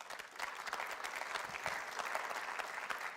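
A church congregation applauding during a Sunday service, a fairly quiet, steady patter of clapping from a crowd, heard alone without talk.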